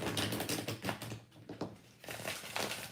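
Tarot cards being shuffled by hand, a fast run of crisp papery riffles and taps with a short lull before the shuffling resumes, close and fairly loud.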